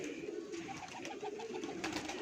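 A pigeon coos in a soft, steady series of low pulsing notes, close but quiet, with faint background hiss.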